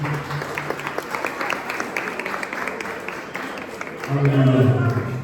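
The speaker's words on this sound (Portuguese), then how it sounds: "Você pode aplaudir ao Senhor Jesus nesta noite." Church congregation applauding during an evening service, a busy patter of claps under a speaking voice, with a sustained tone swelling near the end.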